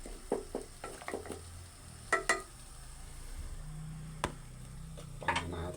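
Bottle gourd (opo) sautéing in a pan as salt goes in and gets stirred, with soft scraping strokes and a few clinks over a steady low sizzle, close by.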